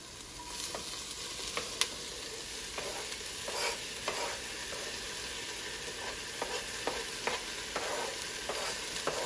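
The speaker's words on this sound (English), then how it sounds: "See, that's frying up nicely." Tomatoes fry in a pan for a Brazilian shrimp stew, a steady soft sizzle with light scraping and stirring clicks scattered throughout, close and fairly quiet.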